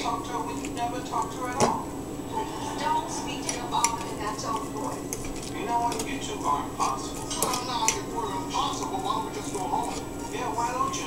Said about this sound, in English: just take 2 forks, and I like to hold one and just give it a little scrape like that